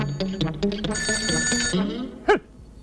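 An old landline telephone rings in a house, a bright trilling bell burst lasting about two seconds, loud and close, followed by a brief voice.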